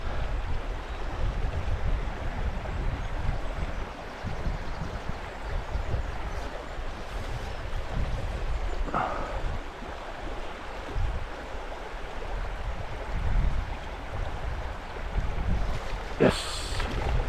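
Wind gusting beside a small brook during fly fishing, a continuous low rumbling buffet over faint flowing water, with a few brief sharper rustles.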